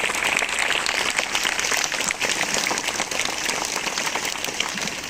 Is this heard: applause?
yes